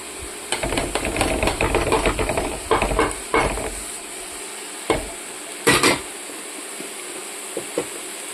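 Smashed jackfruit seeds tossed into sautéed drumstick leaves in a pan, a burst of busy stirring and sizzling that fades to a quieter hiss with a few scattered scrapes.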